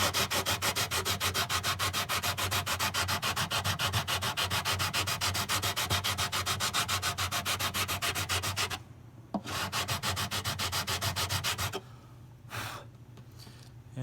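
Guitar frets are leveled with a sanding block, each stroke a steady, close rhythmic rasp repeated quickly back and forth, pausing briefly twice before resuming more quietly.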